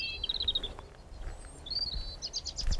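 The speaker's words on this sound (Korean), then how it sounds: "이렇게 길 걷다 보면 참새 소리나 이렇게 막 소리들이 들리는데" Small birds, sparrows, chirping along a mountain path on an island, quick high twittering bursts at the start and again later, moderately near, over quiet outdoor background with no talking.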